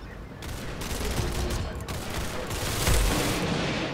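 Continuous gunfire bursts in the Roblox shooter Arsenal, paintball gun shots mixed into a dense, loud barrage of overlapping firing with no clear gaps, a heavier burst near the end.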